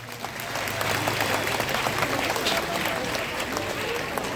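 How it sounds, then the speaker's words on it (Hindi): Loud crowd applause at an outdoor church performance of a staged battle between Saint Michael and Lucifer, a dense clapping wash that swells quickly and stays strong with a low hum underneath. "हम लोग एक बार जोर से ताली बजा देंगे।"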